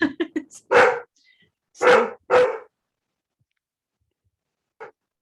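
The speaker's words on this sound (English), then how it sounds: "it's my dog again." A dog barks indoors during an online roundtable, a quick run of sharp yips followed by three loud, full barks, then silence and one faint final bark, with no speech.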